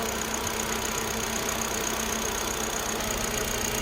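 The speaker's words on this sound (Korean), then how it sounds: "엔진 진동, 진동음" The 1400cc engine of a 2018 Hyundai Accent idles in its engine bay, giving a steady, even hum with a smooth, unchanging level and no voices.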